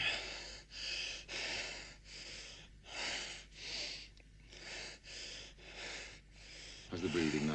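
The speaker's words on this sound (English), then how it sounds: "How's the breathing now?" A recovering man breathes deeply in slow, rhythmic cycles, each long breath rising and falling with brief pauses, close and soft, with a voice speaking briefly at the end.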